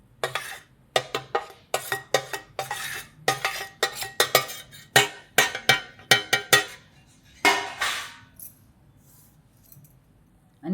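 A plastic spatula mixes nankhatai dough made without maida, soda or an oven in a bowl, giving a rapid series of crisp scraping and clacking strokes in an uneven rhythm, close and clear, then trailing off into quiet.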